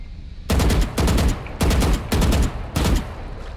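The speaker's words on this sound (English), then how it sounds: "Why are you shooting me?" Automatic weapon fire in Valorant comes in five loud, close bursts of rapid shots, each about half a second long, separated by brief gaps, with no speech.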